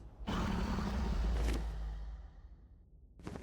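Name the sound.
dragon flying overhead in video game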